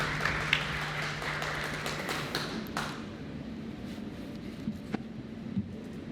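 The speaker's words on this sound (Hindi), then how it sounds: "ज़ोरदार तालियां चिराग जी के लिए।" An audience applauds Union minister Chirag Paswan at the opening of IBC24's new office, a dense burst of clapping that is loud at first and thins out after a few seconds to scattered taps and room noise.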